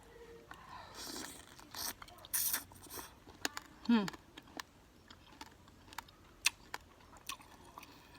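Sour maak mao fruit is chewed close to the mic: soft wet bites and mouth clicks come in irregular bursts, with faint whispery voice sounds in between.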